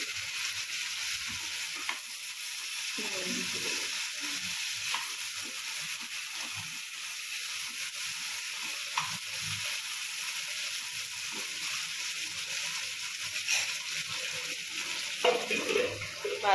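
Tomatoes and vegetables for an Assamese fish tenga fry in a pan, giving a steady, close sizzle with a soft crackle and a few clinks of stirring, with no talking.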